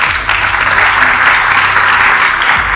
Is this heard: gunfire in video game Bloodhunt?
no